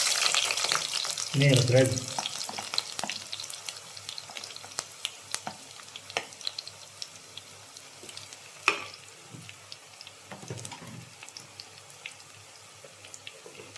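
Sliced onion going into a pan of hot oil and ghee for a chicken curry, with a burst of sizzle at first that settles into a steady crackle with sharp pops, while a voice speaks briefly.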